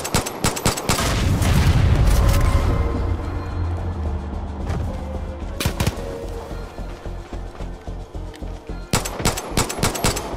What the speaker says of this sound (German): Der muss doch gleich explodieren, der Tank.